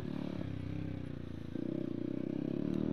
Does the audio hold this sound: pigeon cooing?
no